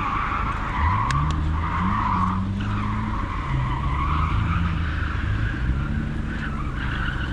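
A car drifting on a drift track, tires screeching in a long continuous squeal over a loud, steady engine roar, heard from inside close by, with no talk.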